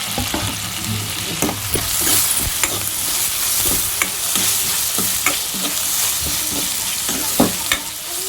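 Onion and tomato fry on low heat in a pan, a steady broadband sizzle running throughout with occasional scrapes and clicks of stirring, close and moderately loud, with no voices.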